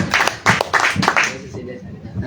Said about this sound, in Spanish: Un aplauso para la Wambi.